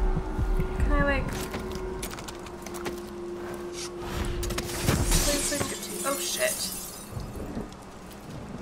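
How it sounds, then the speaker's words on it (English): Glass shatters in Dishonored 2 amid game ambience, with a burst of breaking near the start and scattered crashes and clatter following, while a voice briefly exclaims. "That was just breaking glass."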